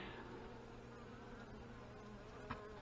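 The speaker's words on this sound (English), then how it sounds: "Lots of bees in there now." A dense, continuous hum of many honey bees buzzing close by in an open hive during inspection, steady and quiet throughout, with a brief soft knock near the end.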